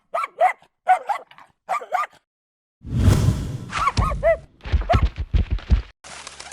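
A small puppy barks in quick, high yips, repeated in short bursts, followed by a loud whoosh of a magical transformation effect and more yapping from the cartoon dog.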